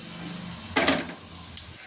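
Five-spice mix and mustard seeds drop into hot oil for a sweet-sour mango oil pickle, setting off a steady sizzle punctuated by a few sharp crackling bursts and pops close by.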